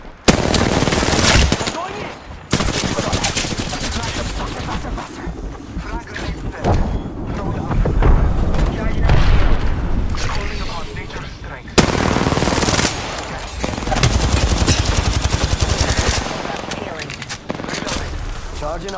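Sustained automatic gunfire from Apex Legends rattles in loud, dense bursts with short breaks, mixed with game effects and in-game voice lines.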